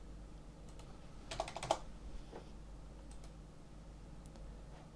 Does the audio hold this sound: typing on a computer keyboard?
yes